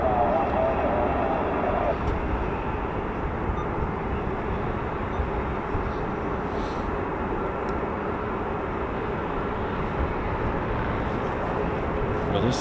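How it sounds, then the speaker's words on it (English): Jet engine roar from a US Air Force F-22 Raptor fighter taxiing on an RAF airbase taxiway, a steady loud rumbling drone throughout, with someone talking over it. "Something's on the move, sounds like an F-22."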